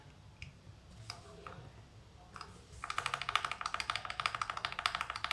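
A few scattered soft key taps on a keyboard with Jelly Strawberry V2 linear switches give way to a rapid, steady burst of crisp, close clacks as the backspace key is pressed repeatedly.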